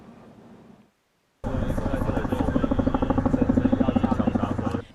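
Army helicopter flying low over a forest fire in the Puli, Nantou hills, its loud rotor chop pulsing steadily and close after a brief gap, with a voice talking faintly beforehand.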